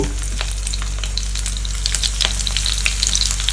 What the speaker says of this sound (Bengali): এটা একটু গরম হয়ে এলে আমি এটার মধ্যে একটু কাঁচা মরিচ দিয়ে দিলাম